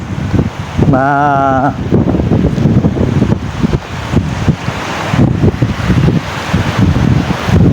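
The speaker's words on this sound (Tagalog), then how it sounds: "malakas po ang hangin" Steady, loud wind buffeting the microphone outdoors at a beach, with a continuous roar and a brief tonal whine near the start, like gusts at an open shore.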